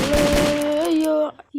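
Synthetic gunfire from a Diwali firecracker mobile game: a short, loud electronic burst of shots lasting about a second, then cutting off abruptly.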